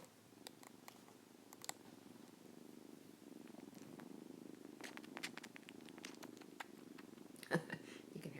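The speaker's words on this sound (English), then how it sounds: "I don't know if you can hear him purring." Steady low purring from kittens runs throughout, with a few sharp clicks and a brief rustle near the end.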